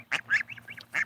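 A goose of mixed brown Chinese and Canada breeding honks three or four times in quick, close succession, loud and nasal, with short gaps between calls.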